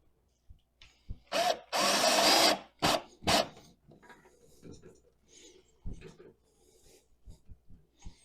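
Two screws driven into the battery mounting bracket of a TCL D1 Pro palm vein smart lock, heard as several short bursts of a power driver, close and fairly loud, with gaps between them.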